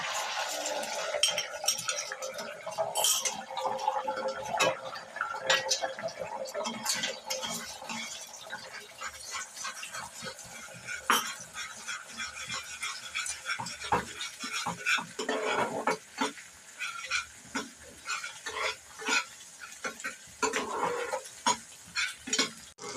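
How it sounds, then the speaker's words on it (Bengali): An egg fries in a hot pan for an egg tadka, with continuous soft sizzling broken by frequent scraping and stirring of a spatula and light clinks of metal against the pan. "এবার আমি ডিমটা ভেজে নেব"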